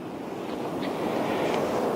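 Ocean waves wash near the coastline in a continuous broad roar of surf, steady and fairly loud, with wind buffeting the microphone and no voices.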